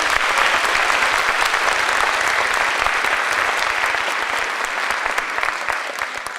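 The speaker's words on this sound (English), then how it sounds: "So please give them a big round of applause." A large crowd claps loudly and steadily for candidates at a 2017 trail ambassador pageant, a dense, continuous wash of hands sustained for over six seconds with no voices on top.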